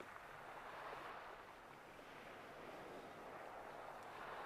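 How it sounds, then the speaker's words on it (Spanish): Steady roar of sea waves along the coast at Peñíscola, a continuous broad wash of surf that stays even and faint throughout with no voices. "En Peñíscola solo se escucha el mar."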